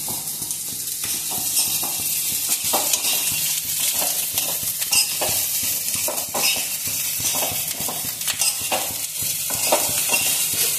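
Pork pieces being stirred in a hot wok while making pork pickle, with steady oily sizzling and frying, broken by occasional scrapes and clatters of the utensil against the pan. The sound carries on continuously for the whole stretch.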